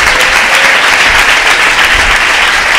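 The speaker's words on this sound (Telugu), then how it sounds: "ఈ పాటను బట్టి చప్పట్లు కొట్టి దేవుని కనపడదాం" A church congregation claps along to a worship song, a loud, continuous roar of many hands close by with a steady, dense texture and no pauses.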